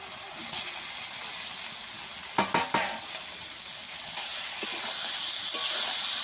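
Eggplant and potato pieces dropped into hot spiced oil with tomato and ginger for a fish curry, giving a steady close sizzle and hiss, with a brief burst of stirring clatter partway through and louder frying toward the end.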